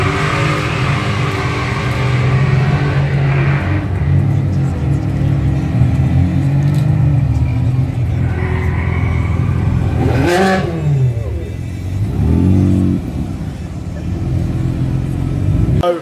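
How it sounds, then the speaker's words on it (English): A high-pitched Lamborghini Stradale supercar engine revs and pulls away at a supercar show, a strong, sustained roar that swells and then fades as the car drives off. "That's Stradale, so high pitched, you can hear it go."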